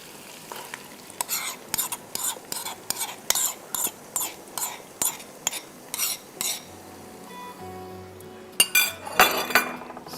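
Mutton cooks in a pot as salt, turmeric and blended tomatoes go in, with a steady run of sharp metal spoon clinks and stirring scrapes over a constant sizzle, ending in a louder burst of frying.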